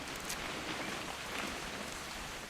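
Rain falling in a video game, a soft, steady hiss of drops on surfaces, faint and continuous with no voices.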